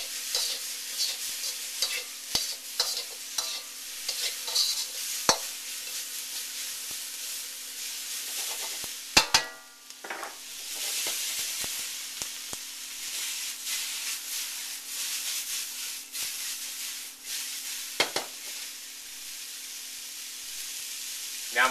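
Garlic and chili peppers sizzle in a hot wok while Szechuan chicken is stir-fried, a steady close frying hiss broken by sharp clatters and scrapes of stirring.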